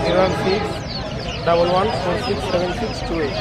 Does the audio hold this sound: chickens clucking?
yes